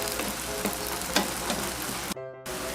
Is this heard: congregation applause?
no